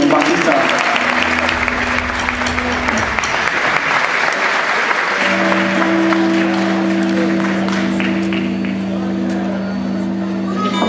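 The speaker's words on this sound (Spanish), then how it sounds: "Quiero presentar con un muy fuerte aplauso" An audience at a provincial rock festival in Patagonia applauds loudly for a bass player of a rock ensemble, sustained clapping throughout with a steady instrumental tone and a voice underneath.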